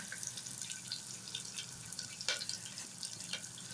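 Water drains off soaked brinjal pieces being prepared for tamarind curry, a faint trickle with scattered drips and small splashes in a quiet kitchen.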